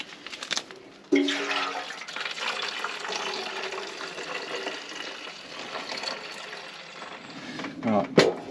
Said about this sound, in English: the tank's been swilled out with cold water and then warm water